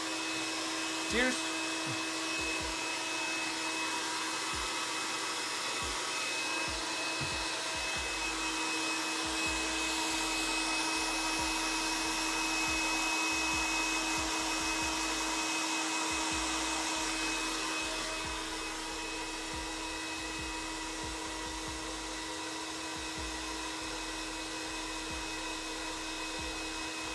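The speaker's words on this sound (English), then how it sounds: "I'll hit him with the hairdryer first." A hairdryer blows steadily for nearly half a minute while drying paint on a model, a constant whooshing motor hum with a faint high whine that drops slightly in level near the end, with occasional soft clicks and handling noises.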